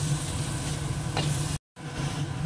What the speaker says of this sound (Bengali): এবার চিংড়ি মাছটা একটু ঢাকা দিয়ে সঙ্গে আগে কষিয়ে নেব ভালো করে